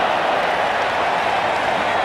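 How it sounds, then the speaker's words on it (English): Dense crowd noise at the Gabba during a one-day international cricket match between Australia and England, a steady broadband roar of cheering and applause with no pauses, loud and continuous throughout. "Crowd are loving that."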